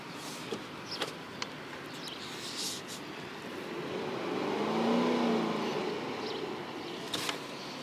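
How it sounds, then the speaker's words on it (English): A 2010 Dodge Journey SXT engine runs at a steady idle, a low, even hum that swells briefly in the middle, heard close and on its own. "Have a listen to the engine here."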